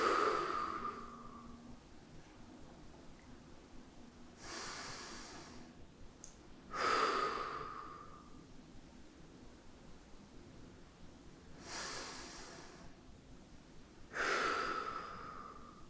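Slow, deliberate breathing during a hip mobility exercise: three broad, breathy exhalations spaced evenly a few seconds apart, each rising and trailing off, close and fairly quiet with no talking.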